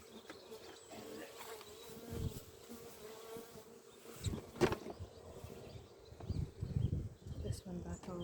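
Honey bees buzz around a backyard beehive in a steady, soft drone with some louder close passes, while faint rustling and handling noises from the beekeeper come and go.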